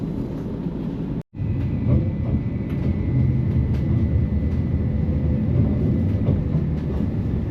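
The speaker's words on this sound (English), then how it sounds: "So once the tram departs, we will see it." A Newcastle light rail tram pulling away from a stop, a steady mid-loud rumble of wheels and motor with a faint tonal whine, broken by one abrupt dropout near the start.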